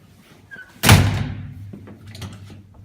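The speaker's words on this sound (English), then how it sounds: "Door doesn't release." A maglock-secured door fails to release and gets pushed against its hold. A sharp, loud thud lands, then a low rattling rumble as the frame settles. No one speaks.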